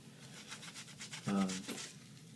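Rhythmic scrubbing of an Air Jordan XI 2001 Retro sole with a sudsy Magic Eraser, a soft wet rasping repeated in quick strokes, close up, with a brief voiced sound partway through.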